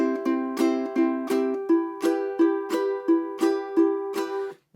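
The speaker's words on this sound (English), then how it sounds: "You'd pick string 3 and do a down strum and pick string 3" Ukulele picking the third string alternating with down strums in an even, repeating rhythm, about a dozen bright plucked and strummed hits, close and alone.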